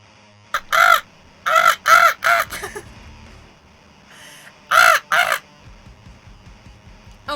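A person imitates crow caws with their voice, giving about six loud, hoarse caws close by, first in a cluster of four and then, after a pause, a pair.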